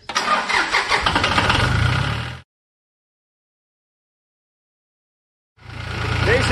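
A John Deere JD950 tractor engine cranks and fires, running loud and rough at close range for a couple of seconds. It cuts to silence, then the engine is heard running again.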